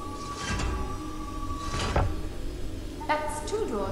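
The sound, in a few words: door opening in video game Prince of Persia: Sands of Time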